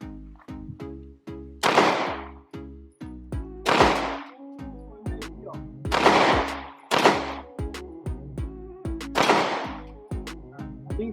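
Glock 45 MOS pistol fired at a shooting range, a loud series of sharp gunshots at an uneven pace, mixed with nearby shots from other shooters.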